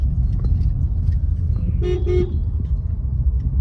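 A car rolls along with a steady low engine and road rumble, and partway through a short double honk of a car horn sounds out clearly before the drive carries on.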